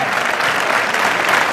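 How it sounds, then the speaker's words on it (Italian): Applause from a crowd at the prize-giving of a hill-climb time-trial race, a dense, steady wash of many hands clapping at once, loud and continuous throughout. "Un applauso."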